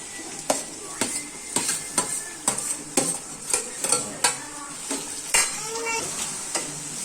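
Shallots sautéing in a hot pan: a constant sizzle broken by a regular run of sharp spatula scrapes and clinks against the pan, roughly two each second, close up and with no voices.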